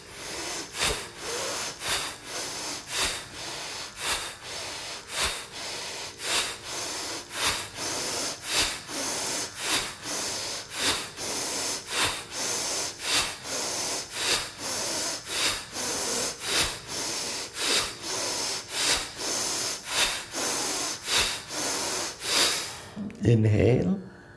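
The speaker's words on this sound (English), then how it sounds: "Jaya breathing, inhale," Rhythmic yoga breathing during a guided routine, with steady audible inhales and exhales repeating at a regular pace for about twenty seconds, loud and close.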